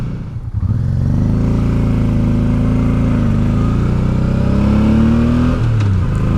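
A motorcycle engine revs steadily while climbing the Col de la Bonette hairpins, a loud, close, continuous drone whose pitch rises and falls through the bends and drops sharply near the end.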